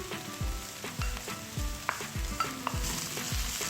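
Onions sizzling and frying in hot oil, with a spoon repeatedly stirring and scraping the pan in a steady rhythm, close by.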